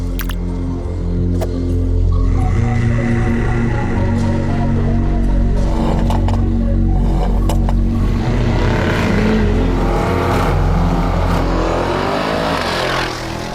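A Mercedes G63 Brabus pulls away under power, its engine roaring loudly and steadily throughout with revving swells and no voices on top.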